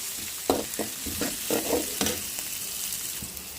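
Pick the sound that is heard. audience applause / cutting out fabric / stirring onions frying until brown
stirring onions frying until brown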